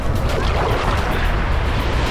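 Steady broadband wash of sea waves rolls on without pause about 80 metres offshore from a beach in Cancún's hotel zone, loud and close, with some wind buffeting and no talking.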